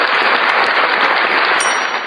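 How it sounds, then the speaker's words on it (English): Loud, dense clapping from an audience at a hosted show, continuous and close throughout with no talking over it. "let's give you a round of applause for that"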